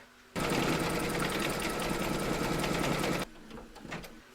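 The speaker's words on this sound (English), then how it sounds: "Load your thread colour for the wording into your machine, and then stitch round number 14." A home embroidery machine stitches lettering in thread on a hooped coaster, running at a steady rapid buzz for about three seconds before it stops abruptly, close and clear.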